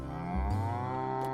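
A single cartoonish cow moo from a farm roguelike game, a short, loud, low call that bends in pitch, set over steady game music.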